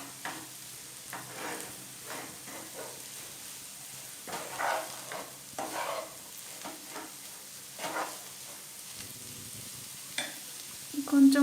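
Cooked mutton keema is stirred with homemade masala powder in a hot pan, giving a soft, continuous sizzle broken by scraping and stirring bursts, fairly close and with no talking.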